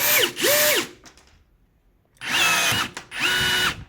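A cordless rivet gun sets a 6.4 by 14 mm aluminium rivet. The motor gives two short whirring bursts, falls silent briefly, then gives two more close, loud bursts, with no talking.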